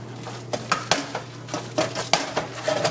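Burger mince being worked together with breadcrumbs in a bowl, with irregular clinks and scrapes of a utensil against the dish and soft wet mixing in between, close and moderately loud.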